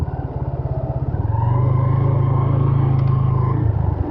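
A motorcycle on city tyres rides over a rough road, its engine chugging in a steady close drone that rises slightly in level and holds, with faint clatter from the bumpy surface.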